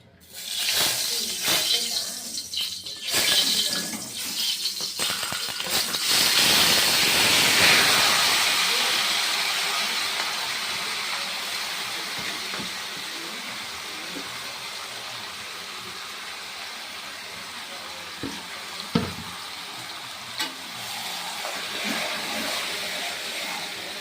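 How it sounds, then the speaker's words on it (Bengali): Marinated chicken drops into a hot wok (kadai) for a spicy red chicken curry, starting with clatter and a burst of loud hissing sizzle that fades to a steady simmering fry, with a voice talking faintly now and then. "চিকেন মাখাটা এবার ছাড়বো কড়াইতে"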